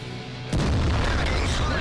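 A JagdPanther II tank destroyer fires its main gun in World of Tanks, one sudden heavy boom that cuts in after a quiet moment and rolls on as a loud, dense rumble.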